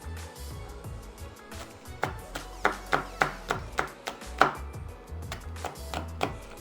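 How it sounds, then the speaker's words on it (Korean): A knife chops a red chili pepper on a cutting board in a home kitchen. About a dozen crisp, sharp taps fall in a fairly regular rhythm, close and clear with no one talking. "역시 홍고추도 십자 모양으로 이렇게 썰어주면 됩니다"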